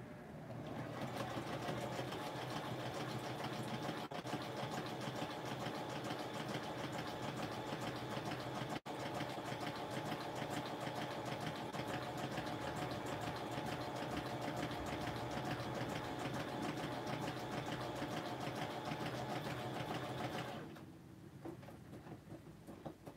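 A sewing machine stitching a small fabric goodie box runs in one steady, continuous mechanical whir for about twenty seconds, then stops, leaving quiet room noise.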